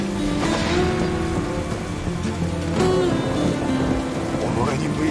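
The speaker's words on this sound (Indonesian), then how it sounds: "Saito yang ingin mengetahui kebenaran dari ucapan Kenshin itu lalu mencoba mengajaknya duel di tengah derasnya hujan." Heavy rain pours down with rolling thunder during a sword duel in a Rurouni Kenshin film, a loud, dense roar with swelling rumbles and sharp accents mixed through it.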